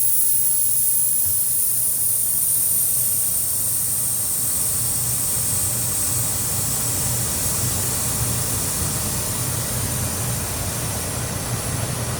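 Hot oil sizzles steadily for the whole stretch during a tadka (spice tempering) for a fish and moringa leaf dish, a dense, loud hiss with a faint low rumble beneath it and no voices.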